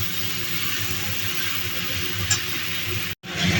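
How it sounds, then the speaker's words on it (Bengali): Chopped vegetables (potol, jhinga, alu) frying in a pan with a little salt, a steady close sizzle running throughout with a brief clatter near the end. "সামান্য লবণ দিয়ে এবার সবজিগুলোকে ভালো করে ভেজে নেব"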